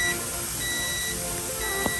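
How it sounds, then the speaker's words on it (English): Kitchen timer beeping during pressure canning, giving repeated high electronic tones in steady pulses against a hissing background, loud and close. "Turn the timer off so you don't have to keep hearing it."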